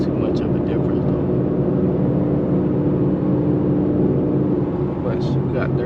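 Ford Mustang GT with a new exhaust setup driving along, a loud steady low engine drone and exhaust rumble heard from inside the car throughout, with no voices.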